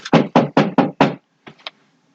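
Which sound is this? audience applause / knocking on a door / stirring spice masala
knocking on a door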